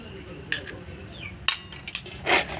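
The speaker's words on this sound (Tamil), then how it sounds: "ஒரு முட்டையை வந்து நல்லா உடச்சி ஊற்றிக்கலாம்" An egg cracked and tipped in for homemade pasta dough: a few short, sharp clinks and taps against a bowl, spaced out over a couple of seconds, close and moderately loud with no voices.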